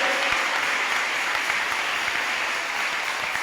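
Steady, loud applause from a church congregation during a Spanish-language sermon, a dense continuous wash of clapping for the whole stretch, with no speech over it.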